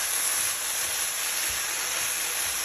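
Chicken and broccoli sizzling in a hot pan, a steady close hiss with a faint crackle underneath, constant and unbroken with no talking.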